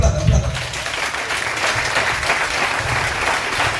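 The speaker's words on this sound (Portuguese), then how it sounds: "aplausos agora. Aplauda." A church congregation applauds, a dense sustained wash of clapping filling the room at close range, with low rumble and voices mixed beneath it.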